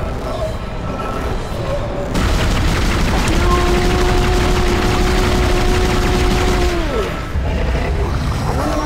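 Heavy sustained gunfire from the sci-fi survival horror game Dead Space: a dense, continuous roar of shots with a steady hum, loud and close, ending in a falling whine.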